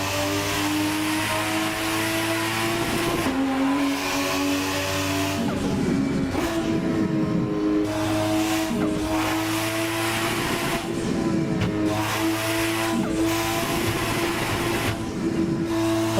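A loud 1000-horsepower car engine in the racing game Assetto Corsa drones at high revs through highway traffic, steady sustained tone with several gear shifts and pitch rises, alone without talk.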